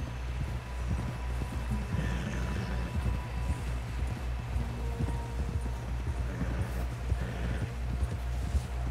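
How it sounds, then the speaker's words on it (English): Steady, rhythmic hoofbeats of a galloping horse in the video game Red Dead Redemption 2 continue throughout at a quick pace, with occasional faint whinnies in the background. "Someone help John down off this horse."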